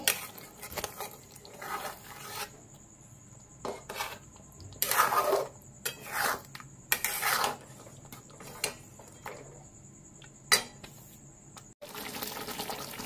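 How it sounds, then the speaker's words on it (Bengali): Cashew paste is mixed into a curd fish curry (doi katla) in a pan, with intermittent wet stirring and scraping bursts and light clinks of a utensil against the pan, close and moderately loud. "এবার এটাকে ভালো করে মিক্স করে নেব।"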